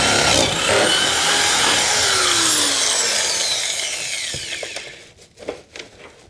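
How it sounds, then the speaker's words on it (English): A loud power drill whines steadily as it bores into material, its pitch sliding down, then sputters to a stop with a few clicks. "then we'll drill this one, then we'll drill this top one."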